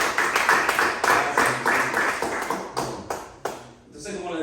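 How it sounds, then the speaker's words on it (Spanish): Church congregation clapping in a steady, rhythmic beat of distinct claps that slows and thins out before a voice resumes speaking. "¿Por qué no le damos una oración de palmas al Rey?"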